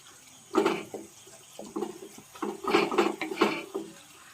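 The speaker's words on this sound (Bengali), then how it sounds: "ঝোলটা কিন্তু ফুটে গেছে।" Pomfret fish curry broth bubbles and sputters in a pot on the stove, with intermittent close splutters and light clinks of the pan.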